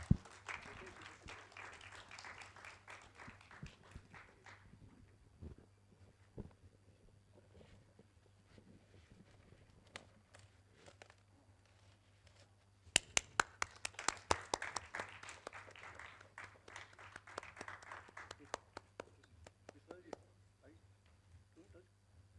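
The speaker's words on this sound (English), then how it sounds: "Can we please have a big round of applause?" An audience at a film festival awards press conference claps in scattered, sparse applause that swells into a denser burst about halfway through, with a low steady hum underneath.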